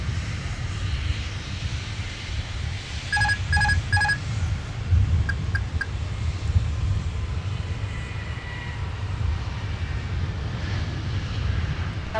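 An Air France airliner departs Minneapolis airport at night, its engines a steady distant rumble that holds throughout, broken early by a few short electronic beeps.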